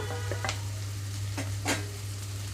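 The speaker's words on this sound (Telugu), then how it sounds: "క్యారెట్ మొత్తం వేసేసి ఫ్రై చేస్తున్నాను అలాగే హై ఫ్లేమ్లోనే ఉంచి ఫ్రై చేస్తున్నానండి" Cabbage, capsicum and carrot stir-frying on high flame for vegetable egg fried rice: a constant hiss of frying with a few sharp spatula scrapes and tosses, close, over a low steady hum.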